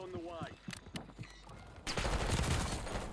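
A C9 submachine gun fires in Warzone, a loud sustained burst erupting after a few seconds of footsteps, light clatter and a voice speaking.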